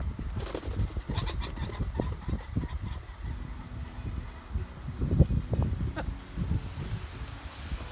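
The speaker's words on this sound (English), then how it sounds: "the male birds, they cackle when they fly" Released male birds, most likely pheasants, cackle in short repeated bursts as they fly off through an outdoor field at Erie Bluffs, with rustling and wind around them.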